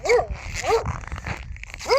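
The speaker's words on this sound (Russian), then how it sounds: "Собачка лает." A dog barks three times, short and fairly close, on a snowy city street in Aldan, Yakutia, with a low rumble of outdoor noise between the barks.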